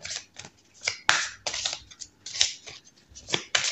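Oracle cards from a Le Mystérieux Labyrinthe deck rustle and snap as they are handled and drawn, in a series of crisp, close papery flicks with short gaps between them.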